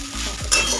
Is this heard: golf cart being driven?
no